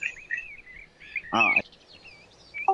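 Birds singing outdoors, clear chirps and whistled calls close by with a brief louder burst of song midway, with a faint voice in the background.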